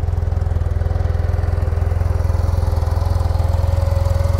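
Steady, loud exhaust note from a Yamaha TMAX 560 scooter (2021) running at idle, a deep, even low-frequency throb that holds constant with a faint mechanical whine above it.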